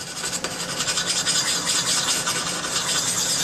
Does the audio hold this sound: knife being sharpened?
yes